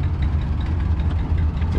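A Minneapolis Moline G tractor on steel wheels runs at a steady, low, rumbling idle, loud and close, with a faint background murmur from the show grounds.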